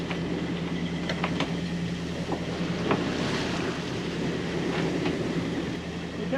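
Big ocean waves wash and rumble around a sailboat in the open sea, with wind roaring in a dense, steady wash and occasional sharper slaps against the hull.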